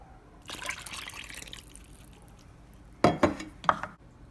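A cup of water is poured into maandazi dough in a bowl, first a soft splashing trickle, then a pause and a few sharp clinks and splashes close by.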